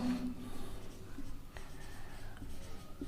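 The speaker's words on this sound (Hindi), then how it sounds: "तो हम यहां पे लिखेंगे फॉल्स" A pen or marker writes on paper or a board during a class 9 maths lesson on coordinate geometry, making close, continuous scratchy strokes with short pauses.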